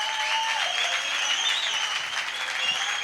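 A church congregation at a Sunday service claps hands in a steady, sustained wash of applause under a faint droning tone, even and moderately loud throughout.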